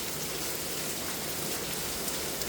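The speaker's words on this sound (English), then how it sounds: "I've never seen it rain like that here in Arizona." Heavy rain pours down in Chandler, Arizona, a dense, loud, even hiss of drops drumming on surfaces with no voices.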